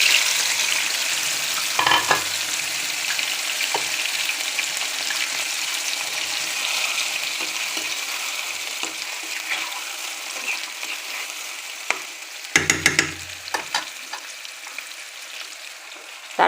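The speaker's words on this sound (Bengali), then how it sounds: "এখন আমি এই চিকেনটা ঢেলে দিচ্ছি।" Chicken hits hot oil seasoned with cumin and fries in a continuous close sizzle that slowly settles, with bursts of spatter and crackle early on and again near the end.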